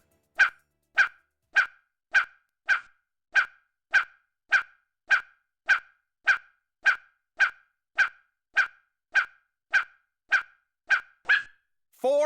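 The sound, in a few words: dogs barking in a news segment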